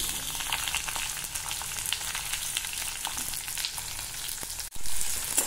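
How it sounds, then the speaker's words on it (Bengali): Onions frying in oil with bay leaves in a pan for moglai paratha, a steady close sizzle with crackling pops and occasional stirring scrapes, briefly interrupted near the end. "পেঁয়াজটা প্রথমে হাফ ভাজা হোক, তারপর এটার মধ্যে মশলা অ্যাড করব"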